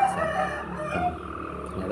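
A free-range village rooster on a small backyard chicken farm crows once, close and clear, over a soft rural background with no voices.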